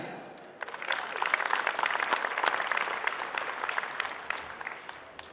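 At the opening ceremony of a dairy expo in Aguascalientes, an audience breaks into applause that swells in quickly after a brief pause, holding a steady crackle of many hands clapping before easing off slightly at the end, heard from a modest distance.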